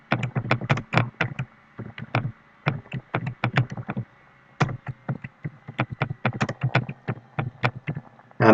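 Computer keyboard typing, close and crisp, in irregular bursts of quick taps broken by short pauses, with no voices.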